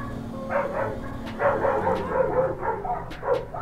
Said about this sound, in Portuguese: cachorrada tá louca aqui na live